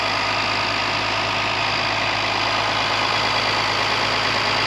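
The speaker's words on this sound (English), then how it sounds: "Car's running off 2 Solex carburetors," The engine of a 1966 Mercedes-Benz 230 Fintail with twin Solex carburetors idles steadily close by, an even, continuous hum with a faint rhythmic knock underneath.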